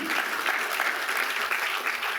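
A church congregation claps together in steady, dense applause that fills the whole moment at close range.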